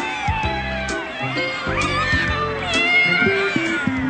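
A cat meows several times in quick succession, loud and close, with drawn-out plaintive calls over a background of music.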